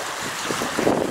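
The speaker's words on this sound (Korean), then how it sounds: "이게 바람이 많이 불어갖고 파도가 세고 지금 8m per sec 이상이에요 지금." Strong wind roars steadily across the water during sea-style kayaking on Uiam Lake, gusts above 8 m/s whipping up rough waves; the broadband rush is loud and close, swelling toward the end, with no talking.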